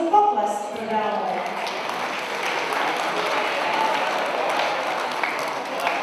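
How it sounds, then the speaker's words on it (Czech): Audience applause for the ladies at a flower-themed ball, a steady wash of clapping hands that swells and holds evenly, with a brief voice heard at the very start. "prosím, potlesk pro dámy"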